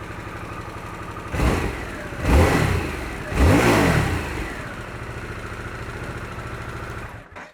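Three quick throttle blips rise from the idle of a stock Harley-Davidson Sportster S, each rev swelling and falling back, and the steady idle carries on until the engine cuts off at the end.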